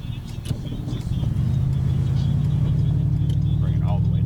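Lowrider car on 13x7 wheels pulling away with its back end locked up, a steady loud low engine rumble building after a second and holding, close by, with faint clicks on top.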